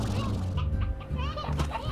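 Chickens cluck in Slime Rancher, a few short clucks over a steady low game ambience, with no talking.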